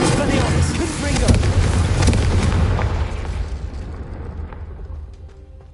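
Spell blasts from Confringo and Incendio casts in a Harry Potter video game burst as heavy booming explosions that roll and fade away, with a spoken spell incantation over the din.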